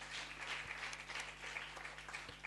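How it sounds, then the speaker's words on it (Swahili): Applause from a church congregation, a steady wash of many hands clapping at moderate distance, continuous with a low electrical hum underneath. "Jipigie makofi mazuri."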